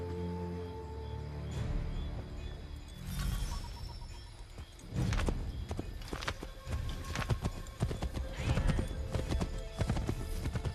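Horse hooves clip-clop in a steady galloping rhythm in Assassin's Creed III, loud and close, with a horse whinnying and a crash partway through, layered over a game soundscape.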